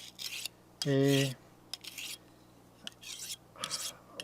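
A knife blade is drawn across the coarse side of a sharpening stone in several short, gritty scraping strokes spaced irregularly, close and moderately loud, with a brief voice cutting in between strokes.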